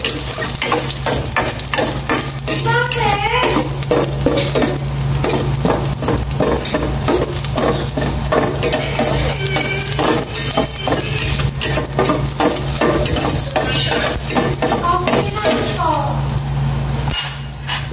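Ginger and garlic sizzling in a hot pan for sinigang, with steady close frying crackle and repeated scraping stirs and utensil clinks throughout, a faint voice now and then.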